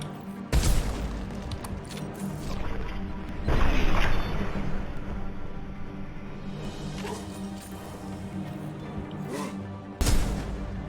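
Sniper rifle shots in Mass Effect 2 ring out as a few sharp, heavy booms spaced several seconds apart, each trailing off into rumbling combat noise.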